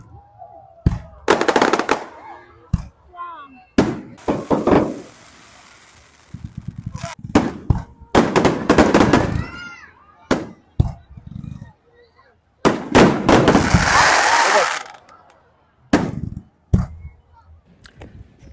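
Loud, sharp bursts of fireworks crack and boom in irregular clusters in Jeju, some rapid like crackling strings, with voices and crowd noise between the blasts.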